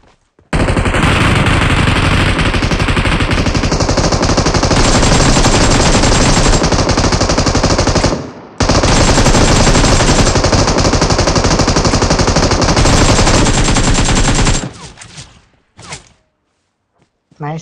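Sustained automatic gunfire from the mobile battle-royale game PUBG Mobile, loud and dense, rattling almost continuously in two long bursts separated by a brief pause before dropping away.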